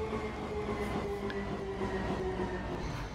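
Light rail trains in Minecraft Transit Railway run with a constant, steady rumble and a faint hum, close and unbroken throughout.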